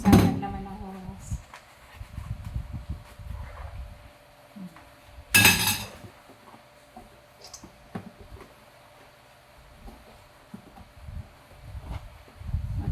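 Pots, a pan and dishes are washed at a home kitchen sink while pork estopado cooks, with intermittent clinks, clatters and knocks of metal and crockery, one sharp loud crash, and occasional talk.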